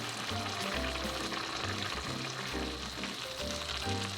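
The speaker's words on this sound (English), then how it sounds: "Turn the heat to medium and simmer for about 2 minutes. Add 2 tablespoons of soy sauce." A meat and potato stew bubbles and sizzles in the pot after soy sauce is added, a continuous close crackle and simmer with no voices over it.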